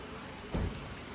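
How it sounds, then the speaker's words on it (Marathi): Rain falls steadily in Goa near a swimming pool, a dense, even hiss throughout with one brief, slightly louder thump in the middle. "तुम्ही बघू शकता पाऊस पडायचं चालू झालं आहे"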